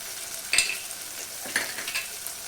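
Tomatoes frying with turmeric, chilli and coriander powder are stirred in a pan for a broad beans curry, giving two sharp scraping stirs over a steady low sizzle, close and fairly quiet.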